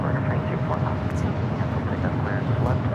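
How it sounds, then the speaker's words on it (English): A United Airlines Boeing 737-800 arriving at LAX from Austin, a steady, loud jet roar holding throughout, mixed with some wind noise and faint talk underneath. "This is United Airlines 215 coming in from Austin, Texas on the 737-800."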